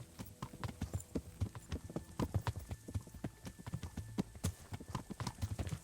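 Hoofbeats from a cantering horse in Kingdom Come: Deliverance sound close and crisp, falling in quick, regular three-beat clusters throughout.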